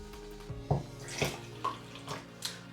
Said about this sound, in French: Je passe maintenant à l'ajout de l'eau.